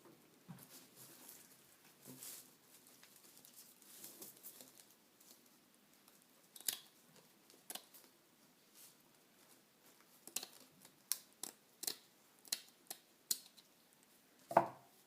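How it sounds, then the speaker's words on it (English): Scissors snip through a length of wreath mesh for an Easter wreath. Faint rustling comes first, then a series of sharp, close snips and crinkles near the end, with no talking. "cut a piece in length that you think will be able to get a good slip knot on your wreath base"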